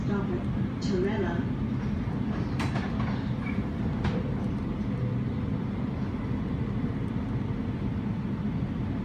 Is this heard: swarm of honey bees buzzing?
no